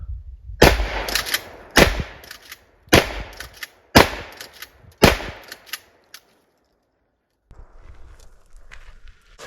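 Antique shotguns fire at targets about ten yards away, five sharp, loud blasts spaced roughly a second apart, each with a short ringing decay, followed by silence and then faint shuffling handling noise.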